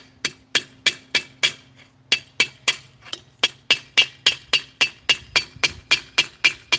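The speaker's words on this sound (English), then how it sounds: "you get to a point where you can hammer on the edge, anvil to here" Steel struck repeatedly on an anvil's edge by a hand hammer, about twenty bright ringing blows at a steady rhythm with a brief pause near two seconds, loud and close with no talking.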